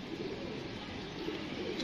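Domestic pigeons at a loft, a steady murmur of low cooing from several birds close by, continuous over a constant background hum with no talk.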